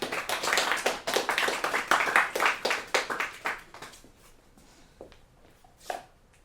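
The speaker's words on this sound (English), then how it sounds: "You can clap." Gallery audience clapping at a new media gallery talk, a lively burst of many hands for about three seconds that thins out to a few scattered, fading claps, with a final isolated clap near the end.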